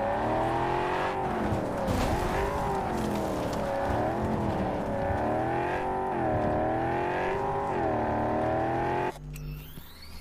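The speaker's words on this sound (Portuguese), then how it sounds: "a gente vai dar uma voltinha de carro e ver a diferença" A car races through the streets of the video game Cyberpunk 2077, its engine whining loudly and continuously as the pitch climbs and drops with each gear shift, then cutting off abruptly near the end.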